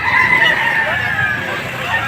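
A two-year-old gamecock rooster from San Pablo, Laguna crows loudly and close by at the Padre Garcia poultry market in Batangas, one long sustained call with faint background market noise.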